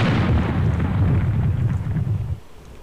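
Air Buccaneers cannon firing, a loud close boom with a deep rolling low rumble that carries for about two seconds and then cuts off abruptly.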